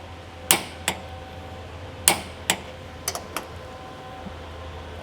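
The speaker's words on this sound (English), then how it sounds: "Okay, torquing up the bolts." A torque wrench tightens recovery tow point bolts on a Toyota LandCruiser LC300, giving a few sharp separate clicks spaced out over several seconds, close and otherwise quiet.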